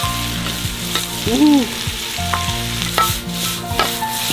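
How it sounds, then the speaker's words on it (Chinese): Ghost peppers stir-fried in a wok give a loud, steady sizzle with repeated scraping strokes of the spatula against the pan, close up, no voices. "我准备把买来的6个魔鬼椒全炒到菜里"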